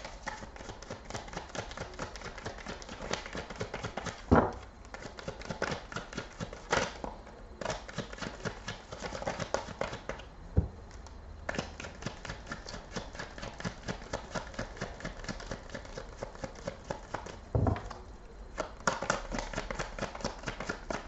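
Tarot cards are shuffled over and over, giving quick, soft riffling and tapping at close range, with occasional louder knocks in between.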